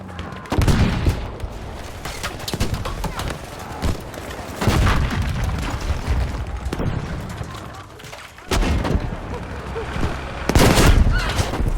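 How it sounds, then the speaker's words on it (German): A grenade blast and gunfire sound in the Battlefield V video game. Heavy booms and bursts of automatic and single shots repeat across a dense, loud battle soundscape. "Aufpassen! Granate kommt!"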